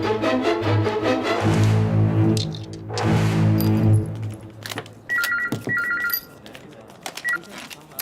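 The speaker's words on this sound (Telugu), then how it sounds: "జాయల్, ఫోన్." A telephone rings in a detective film scene: two short electronic ring bursts sound fairly close, following a stretch of talk and music-like tones.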